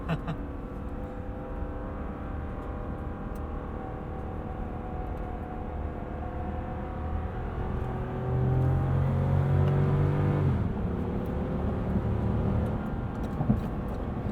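A 2020 Lexus GX 460 accelerates hard onto a highway, its engine note rising in a steady drone that swells louder partway through before easing, heard from inside the cabin without talk.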